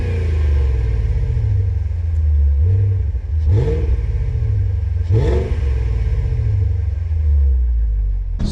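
BMW 540i fitted with a Dinan exhaust, loud and close, rumbling steadily with three sharp throttle blips around the middle, each rising and falling back to a deep idle burble.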